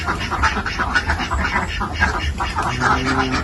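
A flock of ducks raised in a dry duck-farm pen quacks loudly and constantly, many birds overlapping in dense, nasal chatter close by.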